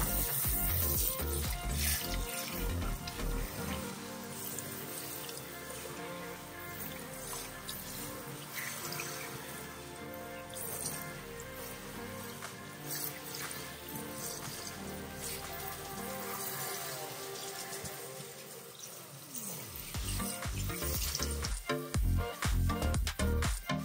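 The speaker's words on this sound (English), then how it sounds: "I'm rinsing all of the soap off, and there's a lot of soap coming off" Tap water runs steadily as soap is rinsed out of a fashion doll's hair, a continuous close rushing and splashing that shifts as the hair moves under the stream, with no talking.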